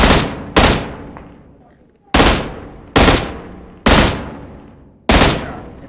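Shotgun blasts from a PUBG firefight ring out in six loud, sharp reports with decaying tails. They come singly and in pairs at an uneven pace.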